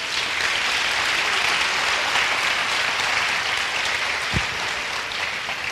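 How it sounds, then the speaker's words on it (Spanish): A crowd applauds steadily, a dense even wash of clapping throughout with one faint low thump. "Un fuerte aplauso al Señor."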